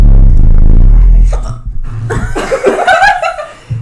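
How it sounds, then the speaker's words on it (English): Hiccup-like bursts from a man after eating one bite of bread, a couple of abrupt throaty gulps heard close to the microphone following a low rumbling opening, with no talking. "now you've eaten bread 1 bite, and you've gotten hiccups again"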